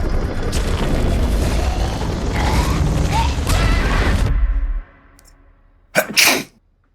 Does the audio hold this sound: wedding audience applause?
no